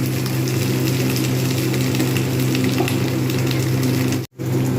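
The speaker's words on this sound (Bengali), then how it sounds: "ডিমগুলো একটু লালচে করে ভেজে নেবো বেশ কিছুক্ষণ ধরে এপিট ওপিট করে" Flat beans fry in a pan with a steady, close sizzle and a constant low hum beneath it. The sound cuts out briefly near the end, then resumes.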